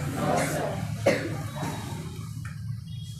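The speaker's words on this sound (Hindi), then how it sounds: "बच्चा को खांसी हो रहा है" A few short coughs from a young voice, close and fairly loud, followed by faint background noise.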